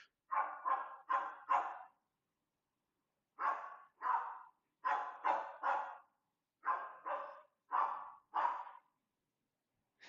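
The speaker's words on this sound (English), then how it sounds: "Damn, my dog is going crazy." A dog barks in bursts of three or four quick barks separated by pauses, fairly distant and muffled indoors, with no one speaking.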